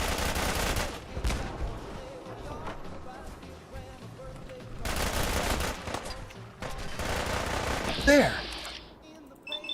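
Bursts of gunfire from a firefight in Fallout 4 come in several loud clusters, with a voice speaking briefly between the volleys.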